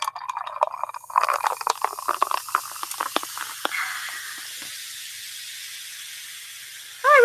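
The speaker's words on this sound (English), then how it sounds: "Do you hear the fizzing of my Diet Coke?" Diet Coke fizzing close to a microphone: a burst of crackling, popping bubbles that settles into a soft, steady hiss and slowly fades, with no voices.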